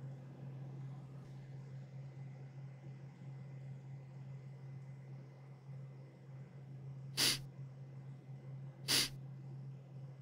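Two sharp, breathy sneezes about two seconds apart burst out over a steady low electrical hum in an animated monster cartoon, with no other talking.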